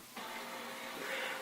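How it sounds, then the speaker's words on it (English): An inkjet-style home printer whirs steadily in a room, a continuous mechanical drone that swells slightly partway through, heard alone without talking. "Sorry for the printer in the background, I don't know what it's doing"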